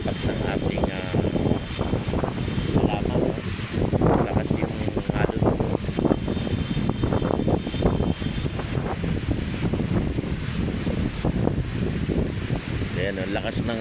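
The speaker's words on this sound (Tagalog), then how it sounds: "lakas ng hangin" Strong wind roars constantly across the microphone at Manila Bay, buffeting and rumbling throughout, with a voice talking underneath.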